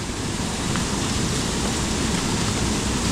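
Heavy monsoon rain pours down at night in the Konkan countryside, a steady, dense wash of noise with no breaks and no voices.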